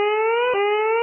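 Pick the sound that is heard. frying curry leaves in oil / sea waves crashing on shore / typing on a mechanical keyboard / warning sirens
warning sirens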